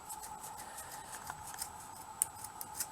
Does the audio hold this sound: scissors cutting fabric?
yes